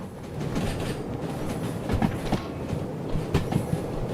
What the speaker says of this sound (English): Back to our locomotive.